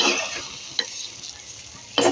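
Semolina roasting in ghee for sheera sizzles steadily in a pan while a spoon stirs it, with a few louder scrapes of the spoon against the metal; no talking.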